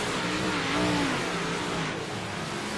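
A big block modified race car engine revs hard on a dirt oval, its loud, rising mid-pitched roar swelling and falling as the car powers through traffic, with no one speaking.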